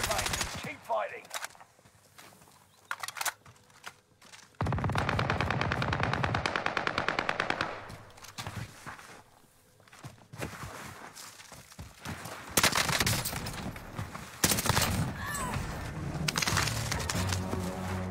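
Bursts of machine-gun fire from a battle royale video game, rapid rattling volleys in several long runs separated by brief pauses, loud and up close, with some quieter shots in between.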